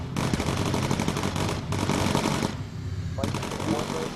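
Rapid automatic gunfire with incendiary rounds in the video game Perfidious Crew, loud and close, with dense continuous bursts and brief gaps, while voices talk underneath.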